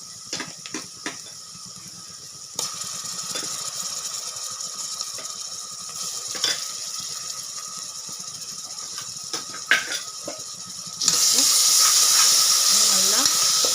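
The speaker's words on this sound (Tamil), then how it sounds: "அப்போ அந்த இஞ்சி பூண்டு பச்சை வாசனை போகிறதுக்கு நல்லா வதக்கிறேன்." Ginger garlic paste sautés in hot oil in a pan for a basmati chicken biryani, giving a steady close hiss and sizzle with faint stirring knocks, swelling louder over the last few seconds.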